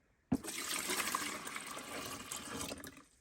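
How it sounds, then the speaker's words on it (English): Water pours steadily into an Arctic Air Tower cooler's tank for about three seconds, a close, hissing splash that starts abruptly and tapers off at the end. "we're going to go ahead and fill her up with some water"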